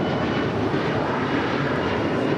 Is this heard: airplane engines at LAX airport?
yes